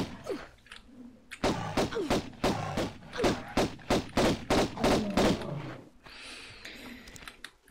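Pistol fire in the 1996 video game Tomb Raider: a rapid run of a dozen or so sharp shots in quick succession, loud and close, with game music and ambience around them and no talk over the shooting.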